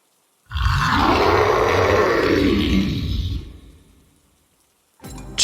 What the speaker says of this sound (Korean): 조용했던 두억신이가 분노로 표효하기 시작했다